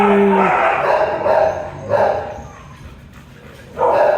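Dogs at a shelter bark, yip and whimper in short bursts, fairly near, with quiet gaps between the outbursts.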